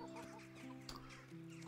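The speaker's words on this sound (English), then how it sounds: "Can't do anything with the chickens apart from using them for target practice." Chickens cluck in the woods in the video game Kingdom Come: Deliverance, a few close, steady clucks with sharp higher calls, set over a constant hum of game ambience with no talking.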